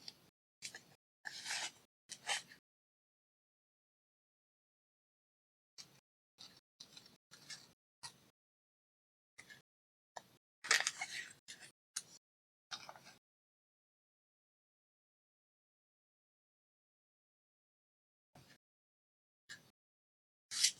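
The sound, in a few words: cutting paper with scissors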